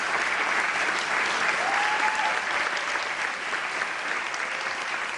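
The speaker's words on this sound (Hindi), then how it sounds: "जोरदार तालियों से स्वागत करें हमारे आदरणीय गेस्ट का जो मंच की तरफ आ रहे हैं" A large audience at a Jabalpur talk show event applauds to welcome a guest to the stage, with dense, sustained clapping that holds steady throughout.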